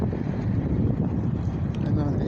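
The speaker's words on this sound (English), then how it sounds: "it is a little bit windy." Steady wind buffets and rumbles against the microphone outdoors near a health center in Toronto, a continuous low roar with no clear breaks.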